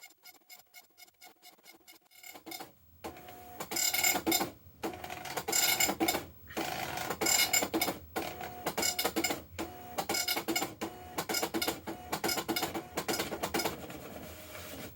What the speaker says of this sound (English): this Star NX-1000 is actually technically a color dot matrix printer